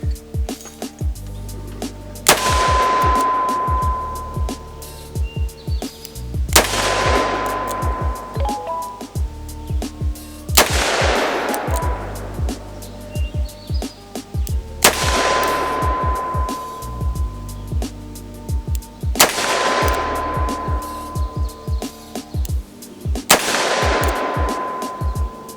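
Six heavy shots from a Taurus Tracker .357 Magnum revolver crack out at spaced intervals of about four seconds, each a loud close blast with a ringing tail, and small clicks and handling noises fill the gaps between them.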